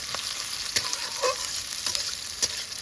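Onions frying in a pan for ghugni, a steady bright sizzle broken by a few sharp clinks and scrapes of stirring, close and continuous with no voices.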